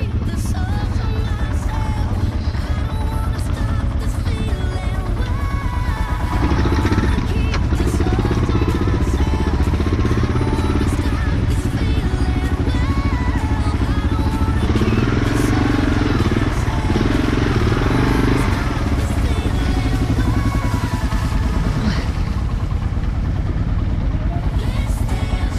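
A motorcycle engine labors loudly and steadily throughout, a continuous rumbling drone with clattering mechanical noise and no talk.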